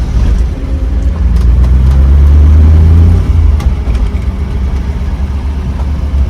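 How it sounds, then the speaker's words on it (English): A Ford Mustang Boss 429 engine runs while the car is driven, a loud, deep continuous rumble close by that swells briefly mid-way before settling back to a steady drone. "I actually drove Jack Roush's Boss 429"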